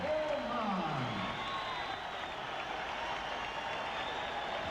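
A boxing crowd at Veterans Memorial Coliseum in Phoenix rises in sustained applause and cheers, a thick steady roar from the start, with a brief voice over it early on.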